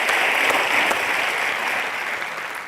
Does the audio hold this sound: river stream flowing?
no